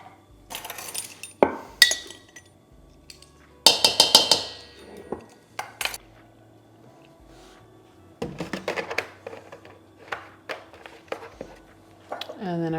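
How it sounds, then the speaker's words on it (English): Lid being pried off a container in a home kitchen while making chicken pot pie, with clinks and knocks of glass and metal in scattered bursts between quiet pauses. "Get this lid off here."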